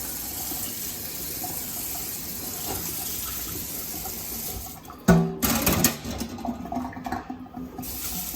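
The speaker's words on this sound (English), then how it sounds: "I just run some hot water over that." Hot water runs from a tap over an ice lantern mould, a steady hiss of flowing water that turns into a louder, splashing gush partway through.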